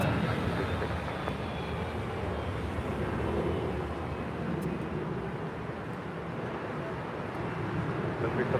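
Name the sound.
Delta Airlines A321 jet departing LAX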